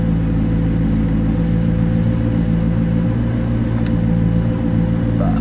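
A McLaren P1 supercar engine idling in race mode, a steady, deep, close rumble holding an even tone throughout with no revving.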